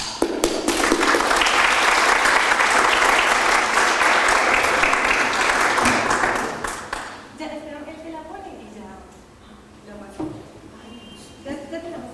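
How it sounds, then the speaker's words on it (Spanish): Conference audience at a literary event bursts into loud, dense applause for about six seconds, then the clapping fades and a speaker's voice takes over with scattered small noises. "Un aplauso."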